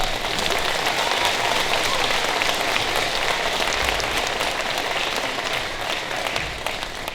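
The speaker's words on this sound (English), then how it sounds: "let's give him a round of applause" An audience at a 2019 time capsule ceremony claps in a full, continuous round of applause, dense and even, tapering slightly toward the end.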